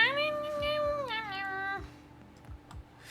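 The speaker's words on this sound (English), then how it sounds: "It's a cat!" A cat meows twice in clear, drawn-out, rising-and-falling calls, fairly close, over faint clicking of a computer keyboard.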